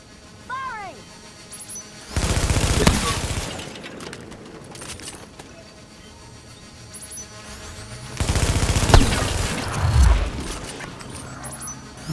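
Gunfire in The Division, two loud sustained bursts of rapid automatic fire with breaking and shattering impacts, separated by quieter stretches of ambient noise and voices.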